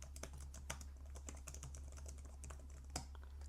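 Keys click rapidly on the iFLYTEK AINote 2 tablet's keyboard, a quiet, close run of snappy taps at an uneven pace over a low steady hum.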